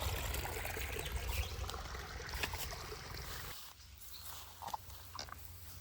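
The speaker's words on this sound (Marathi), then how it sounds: "या साठलेल्या पाण्याला आपण एका दिशेने पाटातून वळवून पुढे शेतीमध्ये घेतो आहे" Stream water trickles steadily through a rural irrigation channel feeding spring water to farm fields, a continuous close flowing wash that quietens partway through, with a few faint splashes and no talk.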